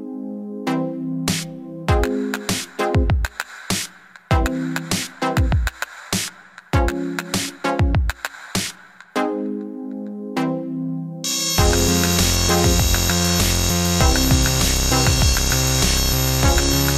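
A rotary tool with a number 111 cylinder-shaped burr stipples a carved skull in short repeated bursts with gaps, then runs steadily and loudly near the end.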